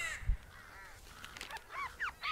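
Crows caw in the video game Tearaway Unfolded, a few short harsh calls spread across a couple of seconds over a faint game backdrop, with no talking.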